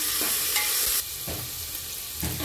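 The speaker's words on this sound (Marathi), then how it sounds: "3 मिरच्या आहेत, उभ्या चिरून घातलेल्या आहेत। कढीपत्ता, कांदा परतून घेऊया छान।" Onion, slit green chillies and curry leaves sauté in hot oil in a pan, a close, constant sizzle broken by a few stirring scrapes.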